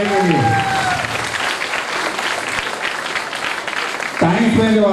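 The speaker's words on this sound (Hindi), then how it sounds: "बच्चों, जोरदार तालियां राजू भाई के लिए" A seminar audience claps loudly and steadily, with a voice speaking briefly at the start and again near the end over the applause.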